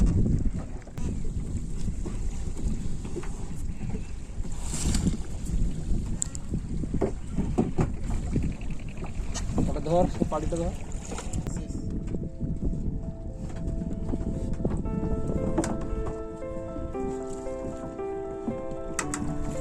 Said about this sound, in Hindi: इस समय नाव को चप्पू से चलाते हैं।